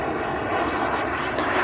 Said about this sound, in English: so we can get the plane trimmed